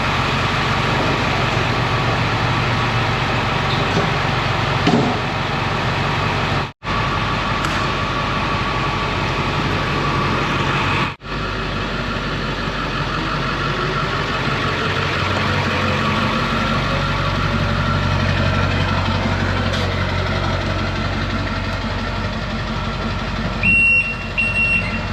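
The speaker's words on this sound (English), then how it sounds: "She's been idling for about 20 minutes." A bus engine idling after repairs, a steady low rumbling drone that holds for a long stretch with brief dropouts and faint mechanical whine, no talk over it.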